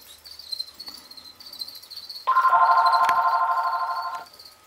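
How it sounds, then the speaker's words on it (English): An electronic telephone ring sounds once, a loud sustained burst of about two seconds, over a constant high chirping of insects in a room where crested geckos are kept. "The phone is ringing."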